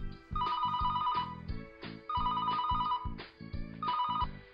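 A telephone rings indoors in loud repeated bursts, three clear ring cycles separated by short pauses, with no talking.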